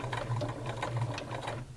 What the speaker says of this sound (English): I will begin by sewing a couple stitches and then back stitching